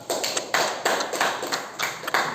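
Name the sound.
applause for Bintang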